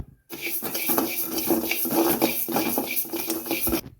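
Raw rice is tipped into a kadai for dry roasting, a close rattling patter of grains hitting the metal pan for a few seconds, then stopping.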